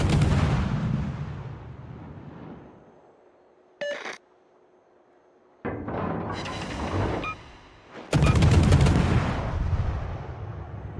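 Warship naval guns in World of Warships boom out in heavy, sharp blasts, with a loud salvo near the start, another short burst and a final powerful volley, separated by quieter lulls and rumbling decay.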